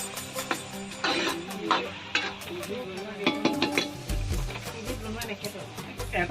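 Duck curry with spices is stirred in a wok in a village kitchen: scraping, clinking strokes of a utensil against the metal over a low sizzle, with speech in the background.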